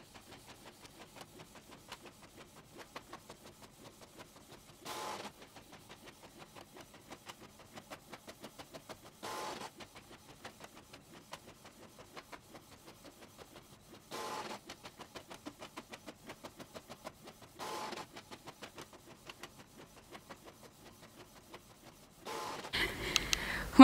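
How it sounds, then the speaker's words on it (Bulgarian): A home printer printing photos for a wall collage, with a faint repetitive mechanical ticking and periodic louder feed bursts every few seconds, ending in a rougher, louder mechanical noise. "започвам да ги печатам"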